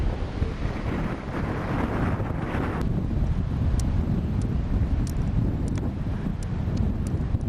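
Strong wind buffets the microphone on the dunes at Crosby on the English coast, a steady loud rumbling roar with gusty swells, alone without voices.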